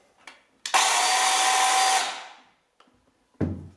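A Parkside PKSA 20-Li A1 battery chainsaw runs with a loud, steady electric whine for over a second after a click, then winds down. Sharp clicks and a thump follow.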